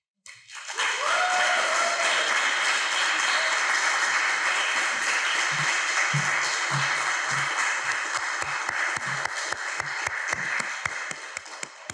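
Sustained audience applause after a poetry reading at a conference, a dense steady wash of many hands clapping that continues for the whole stretch, with a few lower thumps and shuffles near the end.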